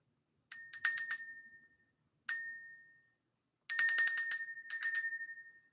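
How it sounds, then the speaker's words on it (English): A small bell rung to clear energy: a bright, ringing cluster of quick strikes, then a single ding, then two more rapid flurries, each decaying cleanly into silence, with no voices. "let's ring the bell"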